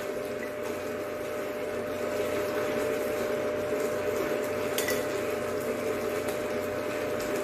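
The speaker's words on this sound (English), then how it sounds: "This blender gets a little bit rowdy." A blender runs without a break as it whips up a coffee drink, a continuous, even motor hum with churning liquid beneath it and no voices.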